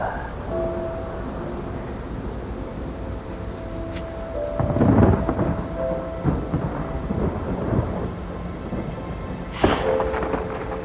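Thunder rumbles heavily in the distance over a steady patter of rain, with a second low roll a few seconds later.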